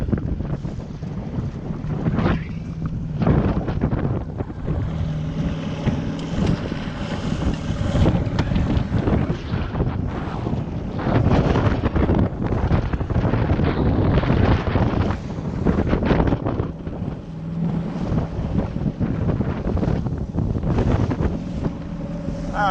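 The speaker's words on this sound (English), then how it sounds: "It's gonna be a challenge in this wind" Strong gusting wind batters the microphone on a lake beside a fishing boat in early spring, with loud rumbling buffets and water slapping, continuous and close without talk.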